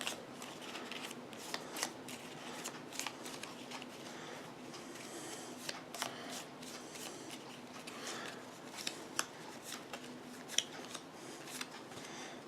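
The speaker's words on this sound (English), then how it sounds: "So we'll shuffle up his cards." Repeated quick riffling and snapping of playing cards being shuffled, a series of crisp bursts close by, with no talking.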